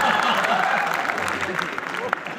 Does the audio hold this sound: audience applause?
yes